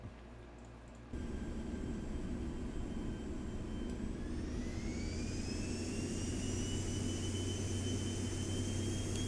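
Cabin interior of an airliner in the X-Plane 12 flight simulator during takeoff, engines spooling up from a low hum to a loud, steady roar with rising whine tones, no talking.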